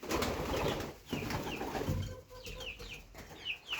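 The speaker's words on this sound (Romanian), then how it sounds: "Ăștia sunt toți porumbeii pe care eu îi mai dețin de ornament" Ornamental pigeons kept by a breeder, Siberian, Rostov, Volga and Saxon swallow breeds, give soft repeated coos and clucking calls close by, with brief bright chirps in between and no talk.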